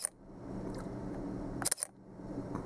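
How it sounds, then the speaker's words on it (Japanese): A single soft click from the quiet shutter of a Leica M10-P digital camera, released once in a silent room. A faint hush surrounds the close, brief snap. "この静音シャッターの音だけちょっと聞いていただこうかなと思いますね。"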